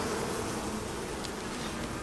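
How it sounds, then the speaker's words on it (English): Bees buzz steadily in the survival video game Icarus, a dense, continuous drone that fills the whole stretch at even loudness with no voices over it. "come on, bees, come at me."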